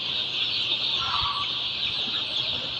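Chickens on a poultry farm give soft, scattered clucks over a constant hissing background hum, fairly faint and with no voices.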